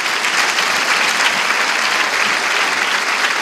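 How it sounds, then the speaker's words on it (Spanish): A gala audience at the Goya Ciudad de Tudela awards gives loud, sustained applause for the Escuela de Jota, a thick, even wall of clapping with no pauses. "un aplauso para la Escuela de Jota"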